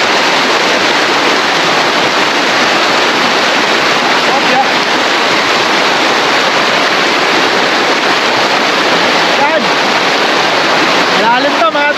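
River water rushing at a riverside campsite, a loud, dense and unbroken roar of flowing current filling the whole stretch, with no pauses.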